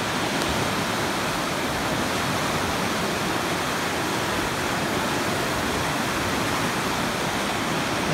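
Flood water rushes through a city in a constant broad roar like a waterfall, steady and fairly loud throughout with no talking heard.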